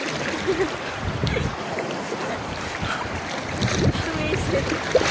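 Waves wash and churn around a boat at sea off Iba, a continuous rushing, sloshing wash with gusty wind noise buffeting the microphone and occasional splashes.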